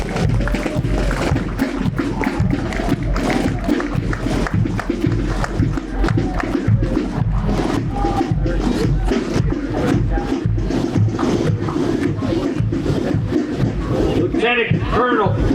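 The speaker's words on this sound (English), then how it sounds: "Let's have a big round of applause once again." Crowd noise at a Memorial Day parade in Radnor, a steady dense wash of cheering and applause lasting throughout, mixed with voices.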